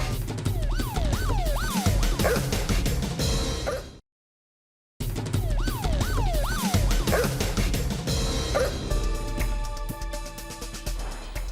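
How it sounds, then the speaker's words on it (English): An angry pit bull barks in repeated sharp bursts with yips and whimpers mixed in, close and loud. A siren wails in the background, and after a short silence the barking goes on alongside beeping and electronic tones. "PC Miller faces an angry pit bull"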